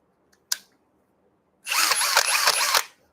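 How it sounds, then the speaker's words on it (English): An electric drill spins up at high speed with a small bit, a short close whirring burst of just over a second with a pulsing texture, preceded by a single sharp click. "So if you're going to do some drilling"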